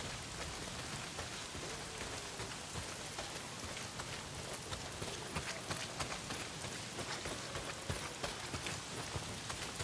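Heavy rain pours in the video game Days Gone, a dense, steady hiss of drops pattering on surfaces with scattered sharper splashes, continuous and enveloping from start to end, with no talking.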